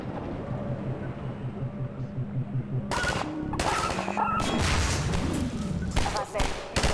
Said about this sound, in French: c'est une MG42 futuriste,